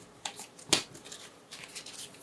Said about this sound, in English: Shuffle these guys.